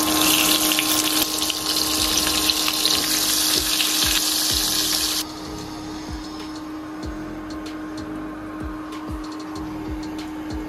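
Milk-dipped, coated chicken leg piece deep frying in hot oil for KFC-style fried chicken, giving a loud, steady bubbling sizzle that drops to a quieter, continuous crackle partway through.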